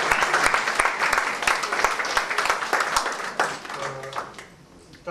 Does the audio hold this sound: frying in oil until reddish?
no